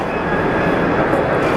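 An EasyJet airliner departing Geneva Airport gives a steady, loud broadband engine roar that holds evenly throughout, with no voices.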